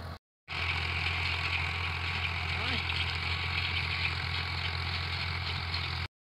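A very old tractor engine idles steadily, a close, continuous mechanical rumble with a constant hum that holds for several seconds after a brief gap of silence, no talking over it.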